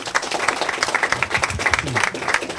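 An audience at a youth carnival queen presentation claps and applauds in brief bursts of close hand claps, with a faint voice underneath.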